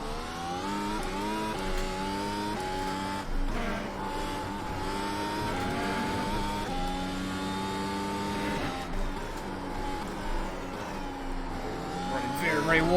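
An F1 car laps Brands Hatch in a racing video game, its high-pitched engine whining steadily, rising and falling through gear changes, while someone talks over it almost throughout.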